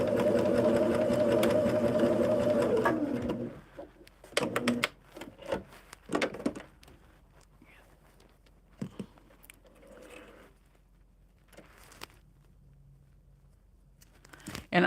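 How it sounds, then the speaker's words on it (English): Close by, a sewing machine whirs in one steady, loud run while stitching a quilt block, then stops. Afterward come scattered clicks and soft handling sounds as the fabric is adjusted. "I take it to the machine. I got it just right where I want it. And I'm going to just run a line of stitching"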